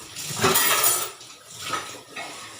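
Dishes, pots and cutlery clatter and clink while being washed at a sink, with running water in a household kitchen on a cold winter night; close, busy bursts of clanging with short pauses.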